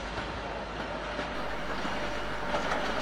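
A British Rail Class 86 electric locomotive hauling Mark I coaching stock on a 1980s commuter service, a steady, loud rumble and wheel roar from close by with faint rhythmic clatter throughout.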